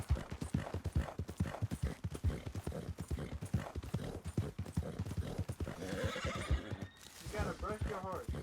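Rhythmic hoofbeats of a horse in Red Dead Redemption II clip-clop steadily while the horse neighs and whinnies near the end, with a voice talking over parts of it.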